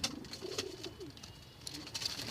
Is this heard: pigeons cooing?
yes